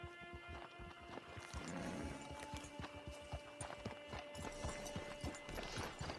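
Horse hooves clip-clop at a steady walking rhythm in the video game Red Dead Online, close and moderately loud over a faint mechanical rattle and a steady low tonal background.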